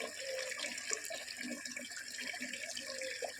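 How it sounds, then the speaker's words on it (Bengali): Water runs steadily from a tap into buckets, making a soft, continuous splashing and gurgling rush with no voices. "এখন কলটা খুলেছি খুলে বালতিগুলো ভরে নিই"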